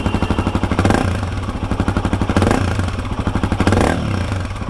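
A Himalayan 450 motorcycle fitted with a rally exhaust and decat pipe runs close by, its engine pulsing in a steady rapid rhythm with loud, rough rises in revs, alone without talk.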